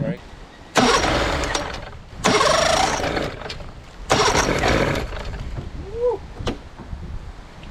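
A Johnson 60 horsepower outboard motor is cranked in three loud bursts, each catching briefly and sputtering into rough running, with people talking in between the attempts.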